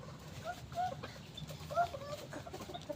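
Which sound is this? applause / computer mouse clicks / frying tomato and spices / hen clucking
hen clucking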